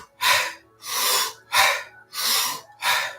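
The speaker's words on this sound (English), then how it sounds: "5 deep breaths." Five deep, forceful breaths during a Wim Hof Method workshop exercise, each a loud close airy rush that swells and fades in a steady rhythm, with no talking.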